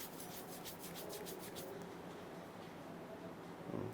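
Hands rub together briskly in a quick run of close, rhythmic swishing strokes, then settle into a softer, steady brushing, with no speech.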